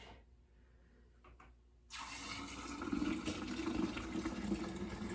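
Kombucha pours from a gallon jar into a half-gallon jar, a steady liquid gush starting partway in after a quiet moment and continuing loud and close to the end.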